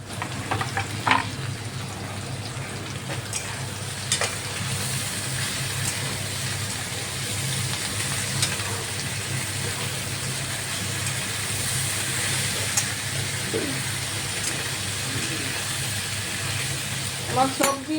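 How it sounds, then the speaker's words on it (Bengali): Vegetables fry in a pan with a steady, broad sizzle and occasional scrapes of stirring, continuous and close throughout. "আমার সবজি ভাজা হয়ে গেছে, এবার আমি টমেটো দিয়ে দেবো।"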